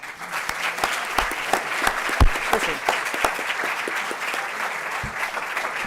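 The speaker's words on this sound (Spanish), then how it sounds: "un gran aplauso para Javier." A lecture-hall audience in an auditorium applauds Javier, steady dense clapping that runs the whole time with a few sharper, closer claps standing out.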